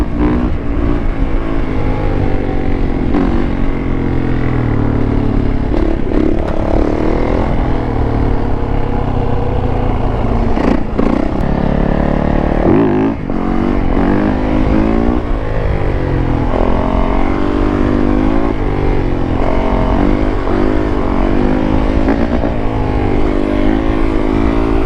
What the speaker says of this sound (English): riding these sport bikes